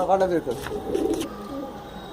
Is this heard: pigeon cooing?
yes